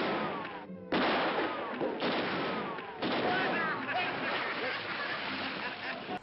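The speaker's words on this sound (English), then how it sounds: "What's the idea of shooting my feet?" Gunshots fired at a man's feet in an old radio western drama, heard as a few sharp bursts at roughly one-second intervals over a loud, noisy broadcast background with voices.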